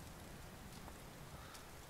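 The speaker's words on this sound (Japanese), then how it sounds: "外はまだ雨よ" Steady rain ambience from the video game Dragon Quest XI, a soft continuous patter of raindrops on surfaces, faint and evenly spread with no talk over it.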